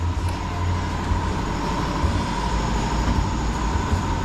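A 2007 Honda Element engine held under load while power braking in drive, a steady low droning hum with broadband rumble, constant and close.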